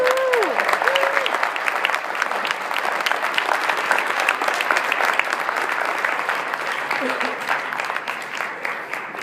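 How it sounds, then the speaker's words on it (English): Applause fills a room after a congresswoman is introduced as keynote speaker at a morning food talk, steady dense clapping from a sizeable audience, loud and continuous throughout, with a few voices briefly heard near the start. "Let's give her a round of applause."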